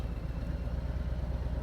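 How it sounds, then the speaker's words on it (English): Loud Harley-Davidson motorcycles rumble at Port Dover's Friday the 13th gathering, a steady close low engine drone with pulsing throb and no pauses, with no voices. "loud Harley motorcycles"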